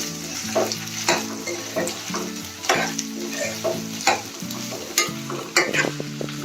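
Cauliflower stirring and frying in a pan over high gas flame while cooking a spice-free pulao, with steady sizzling and repeated scraping strokes of a spoon, loud and close, no voices.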